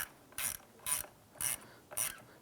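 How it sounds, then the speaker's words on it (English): An 8mm socket on a ratchet snugs down the battery ground terminal nut on a 2005-2007 Ford Five Hundred, giving four short, close buzzing ratchet clicks in an even rhythm. "Use your 8mm socket to go ahead and snug this down."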